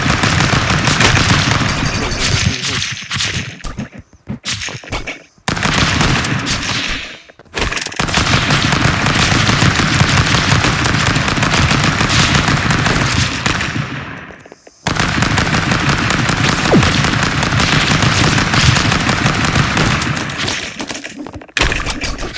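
Loud, sustained machine gun fire from the video game Stick Fight, long dense bursts broken by a few brief pauses, dominating throughout with no talk over it.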